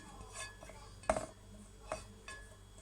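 Spoon clinks against a glass or jug while stirring a purple carrot drink in a home kitchen, a few separate light clinks, close and soft, with no talking.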